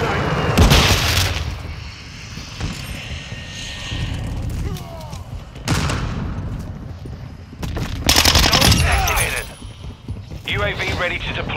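A flash grenade goes off in Call of Duty Modern Warfare 2, a few sharp bangs and bursts of gunfire standing out from a dense, noisy battle mix while radio-style voices talk.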